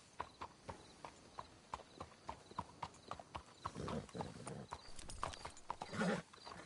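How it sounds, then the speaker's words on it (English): Horses' hooves clip-clop in the video game Red Dead Redemption 2, a steady rhythm of distinct hoofbeats at a walking pace, with louder rustling and movement noise later and faint voices in the background. "Let's hitch the horses up ahead."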